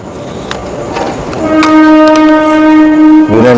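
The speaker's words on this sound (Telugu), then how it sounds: "ట్రైన్ సౌండ్ కూడా వస్తుంది." A train passes on a railway track right beside an old factory, rumbling closer and then sounding a long, loud, steady horn blast that ends with a second, shifting horn note, very near and dominating.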